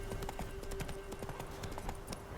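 Horse hooves in The Witcher 3 clip-clop in a quick, steady rhythm at a moderate distance, each clop sharp and distinct over a faint ambient tone.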